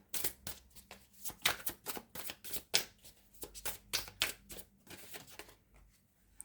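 Tarot cards are shuffled by hand in a steady series of crisp riffling bursts, close and fairly quiet, with no talking.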